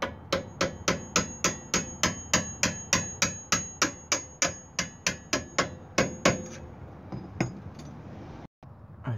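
A rapid, steady run of sharp metallic hammer strikes on a flat screwdriver driving out a bolt on a Hyundai Sonata's rear brake assembly, about two dozen evenly spaced blows, ringing close and loud before stopping; a few softer taps follow.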